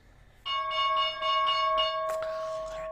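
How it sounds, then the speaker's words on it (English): A stock market opening bell rings, a bright sustained metallic tone with rapid repeated strikes lasting over a second, followed by a brief burst of noise and a lingering ring. "And there is our opening bell."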